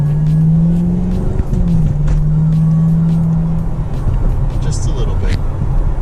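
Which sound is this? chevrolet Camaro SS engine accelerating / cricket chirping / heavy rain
chevrolet Camaro SS engine accelerating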